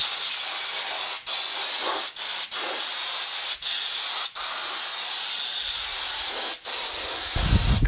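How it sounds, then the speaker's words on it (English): A loud, steady hiss of Armour-Seal undercoating spraying onto a truck frame runs almost continuously up close, broken only by a few very brief trigger releases, with no speech. "You can also apply the armor seal to the frames of the truck."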